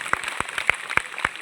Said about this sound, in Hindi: आभा मैम के लिए एक जोरदार तालियां।